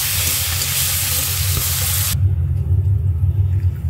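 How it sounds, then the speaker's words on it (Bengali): A hilsa fish head coated in salt, chili and turmeric fries in a pan with a bright, steady sizzle that cuts off abruptly partway through, leaving a low rumbling hum. "ইলিশ মাছের মাথা লবণ আর মরিচ হলুদ মেখে ভেজে নিতেছি"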